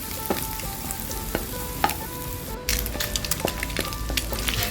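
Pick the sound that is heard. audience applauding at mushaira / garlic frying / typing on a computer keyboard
garlic frying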